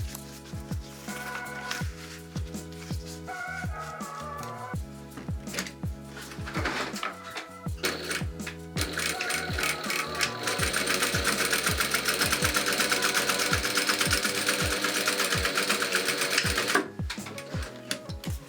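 A sewing machine stitches a 2 cm fold on a homemade bikepacking stem bag, running in quick rhythmic bursts that become a steady, louder run of stitching in the second half.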